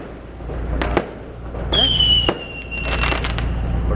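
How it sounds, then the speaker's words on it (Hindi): Fireworks and firecrackers bursting in Quetta during a Pakistan Day celebration: sharp cracks and pops scattered throughout, with a few whistling rockets trailing high tones, all set against a steady outdoor crowd murmur. "पटाखे"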